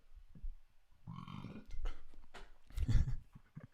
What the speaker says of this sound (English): when you burp and it's carbonated?